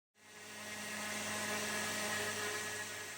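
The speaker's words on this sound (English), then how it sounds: "Here I'm using the Makita laminate trimmer router with a guide fence to cut the chipboard panels in half." A Makita laminate trimmer router fitted with a guide fence cuts through chipboard panels, starting abruptly and holding a loud, steady high-pitched whine with a harsh broadband cutting roar for the rest of the clip.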